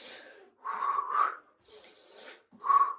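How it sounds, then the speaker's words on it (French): Audible inhales and exhales during a gymnastics exercise come in three rough, breathy bursts with short pauses between them, heard close and with no talking. "j'inspire, j'expire"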